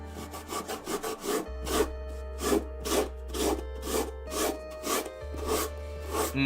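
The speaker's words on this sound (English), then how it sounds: "I apologize in advance for all the sandpaper noises you're gonna be hearing" Sandpaper rubbed back and forth over a mask in a steady run of about a dozen close, scratchy strokes over a constant low hum.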